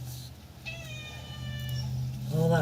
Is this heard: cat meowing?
yes